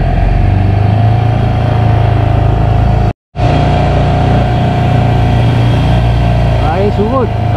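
A small 5 horsepower outboard boat motor drones loudly and steadily, cutting out briefly before resuming its constant hum.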